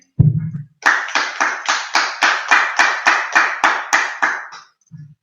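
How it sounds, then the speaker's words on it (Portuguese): A church congregation at a Sunday worship service claps in rhythmic unison, about a dozen sharp, evenly spaced claps close and loud, after a brief voice at the start. "Vamos dar uma salva de palmas ao nosso Senhor Jesus Cristo"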